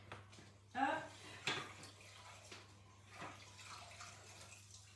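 A cloth is rinsed in water while cleaning a kitchen drawer, giving a couple of brief splashy swishes near the start, then softer dripping and wringing sounds close by.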